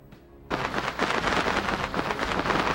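Video game rain from Legion: The Legend of Excalibur, a dense broadband hiss that starts abruptly after a quiet moment and continues loud and steady, with faint rumbling underneath.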